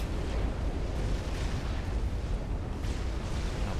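Battleships in Supreme Commander exchange artillery fire, making a dense, continuous rumble of overlapping booms and blasts. It is loud and sustained throughout, with no talk.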